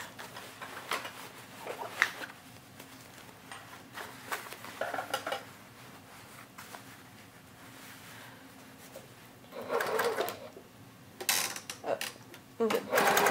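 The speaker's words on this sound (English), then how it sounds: "I'm going to sew this up really quick." A home sewing machine stitching closed the lining opening of a fabric tote bag, heard as short, soft whirring runs with small clicks and handling noises between them.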